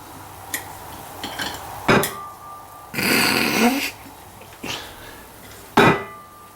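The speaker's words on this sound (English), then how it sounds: "And now it's time to crack this egg." Several sharp knocks and cracks against an ostrich eggshell, isolated hard hits spaced apart with a longer crunching break in the middle, close and fairly loud in a home kitchen.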